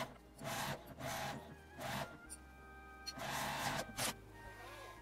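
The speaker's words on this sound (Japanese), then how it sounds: "印から印までミシンをかけます。" A sewing machine stitches a zippered shoulder bag, faint whirring runs in several short bursts separated by pauses, quiet and close, with no talk.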